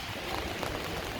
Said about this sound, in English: Chicago still looks good in the rain.